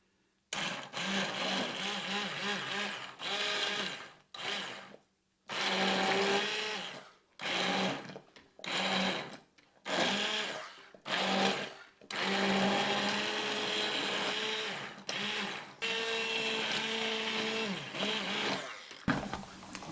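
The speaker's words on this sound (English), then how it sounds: "I'm going to use the immersion blender and try to blend it down some" An immersion blender whirs loudly as it purées hot tomato soup in a pot. It runs in repeated bursts of several seconds each, separated by short silent pauses, with its motor pitch wavering while the blade churns.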